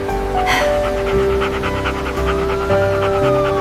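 A dog pants rapidly and steadily at close range, the quick breaths loud and continuous with no other voices.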